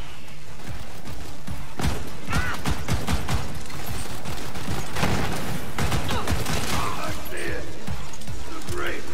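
Dense, rapid gunfire fills a frantic firefight in the looter-shooter game Borderlands 3, with loud bursts and repeated shots continuing throughout, overlapping with other game effects.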